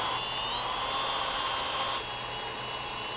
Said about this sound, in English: We're going to use a bristle brush here, or a bore brush, to go ahead and clean out inside the knuckle port.